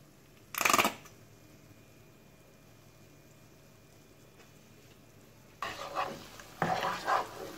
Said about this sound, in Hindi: हम इन सबको मिक्स कर लेंगे